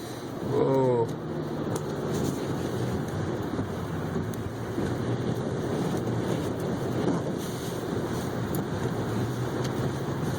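Gusty hurricane-force wind roars against a vehicle driving through Hurricane Sandy on Long Island, New York, a steady heavy rush with a stronger gust early on.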